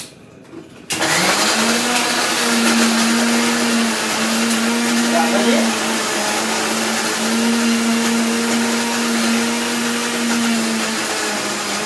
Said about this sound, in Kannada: ಮಿಕ್ಸರ್